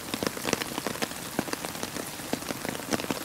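Rain patters steadily on surfaces in the wet backcountry of Fiordland, New Zealand. The drops are soft and fairly quiet, forming a dense, even shower with no voices.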